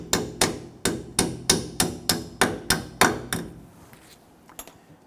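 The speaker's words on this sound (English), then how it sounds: "I'm going to tap that down with my hammer." About ten sharp hammer blows strike a metal brake hose clip on a Nissan Frontier in an even, quick rhythm, close and crisp, followed by a quieter pause with a couple of faint knocks.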